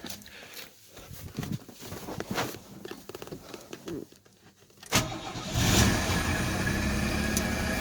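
Pontiac Fiero engine being started: quiet shuffling and handling noises first, then the engine fires with a loud burst and settles into a steady, close idle.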